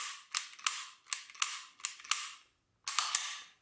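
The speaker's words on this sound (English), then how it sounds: "Go ahead and pull the trigger a couple times." A Sig Sauer SP 2009 pistol is dry-fired, giving a series of crisp, close mechanical clicks from the trigger and action, about six snaps in quick pairs with a short pause before the last ones, in a quiet room.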